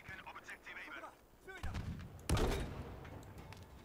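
Gunfire in the video game Battlefield V aimed at bringing down a tree, with a couple of heavy booming shots and a strong blast near the middle, mixed with game ambience.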